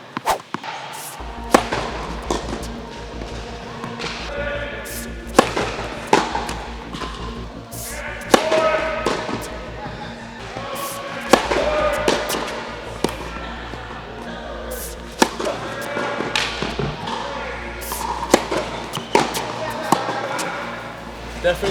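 Tennis serves struck with a new racket on a court, a series of sharp hits and ball bounces at irregular intervals over about twenty seconds, fairly close, with a low steady hum beneath and some talking mixed in.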